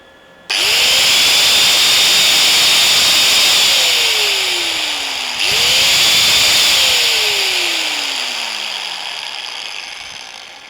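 A Doliz BA730 angle grinder with its air filter covered spins up twice, each time a loud, close motor whine that shifts in pitch and then slowly winds down.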